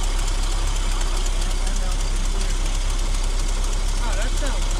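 A 1966 Ford F250 engine idles after an idle screw adjustment, giving a steady, loud, close rumble with a constant low throb and faint ticking, while people talk briefly over it.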